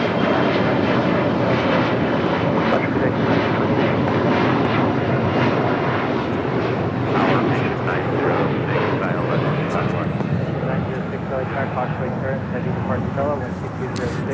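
Horizon Air jet taxiing at Los Angeles International Airport, a steady, loud broadband engine roar holding throughout with no clear gaps, while a voice talks over it.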